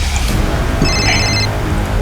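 A phone rings for an incoming call, a short electronic trilling ring standing out briefly over a steady rumbling background.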